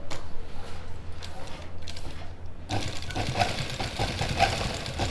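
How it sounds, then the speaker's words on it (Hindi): A sewing machine runs steadily while stitching the white piping strip along a suit, a low continuous mechanical whir that picks up and brightens partway through, close by with no talk. "अब की बार पक्की सिलाई लगाएंगे।"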